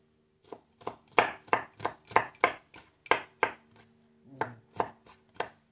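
Garlic being chopped with a knife on a board for Lao cuisine, a steady series of about fifteen sharp, close thunks in an even rhythm with a brief pause near the end.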